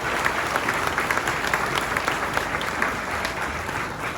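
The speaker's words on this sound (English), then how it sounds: "Let's give them all a round of applause for what they do." Sustained applause from a crowd at an evening political gathering, a thick, even wash of clapping that holds steady from start to finish.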